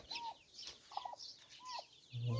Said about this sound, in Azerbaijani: Gelin ortaklar cücələrə geçək.